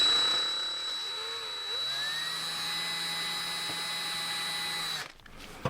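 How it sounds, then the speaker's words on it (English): A small electric drill bores into a Star Wars action figure, a steady high-pitched whine that holds close and constant for several seconds before stopping abruptly near the end. "I'm going to take and hook up my little drill"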